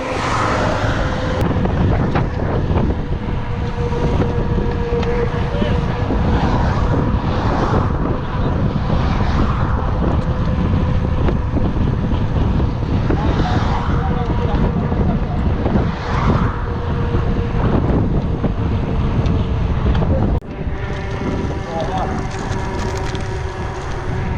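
Loud, continuous wind roars and buffets the microphone throughout, with faint voices occasionally under the noise.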